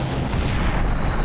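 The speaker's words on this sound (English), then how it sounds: "Why did that explosion cause me to projectile bleed out of my ass?" Canisters explode in the video game Max Payne, a dense, loud rumbling blast that fills the whole short stretch with continuous booming noise.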